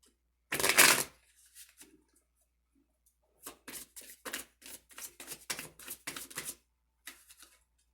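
A tarot deck is shuffled up close: one loud riffle burst, a pause with faint handling, then a rapid run of crisp card flutters and taps, ending in a few light clicks.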